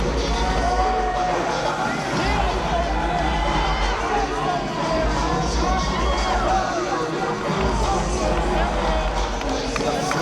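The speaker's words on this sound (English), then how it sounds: "Greeting this capacity crowd here in Springfield." A packed crowd at a New Order Wrestling street fight in Springfield roars and cheers continuously, a loud, dense wash of voices and shouts that carries through the whole stretch without letup.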